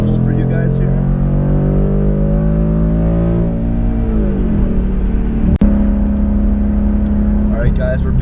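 Car fitted with a race exhaust pulls hard on a highway, a loud, close engine note climbing steadily in pitch for several seconds, then shifting gear with a sharp pop and settling into a steady drone as cabin talk runs beneath.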